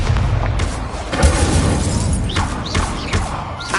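A fire spell called Incendio cast in Hogwarts Legacy on PS5, a bright whooshing, crackling burst with a low boom, dense and close, followed by sweeping magical swishes.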